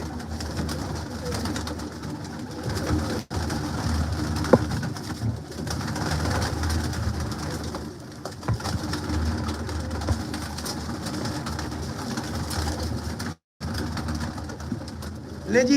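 Pigeons offered for sale at a breeder's loft, several birds cooing in soft, low, continuous murmurs close by, with a brief break partway through and faint talk in the background.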